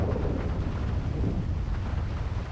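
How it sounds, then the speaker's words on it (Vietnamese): Rain in GTA 5, falling around a Rolls-Royce Wraith: a steady, broad hiss of downpour with low rumbling underneath, continuous and without speech. "trời mưa quá"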